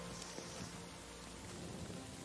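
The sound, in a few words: rain in Kingdom Come Deliverance 2 (video game)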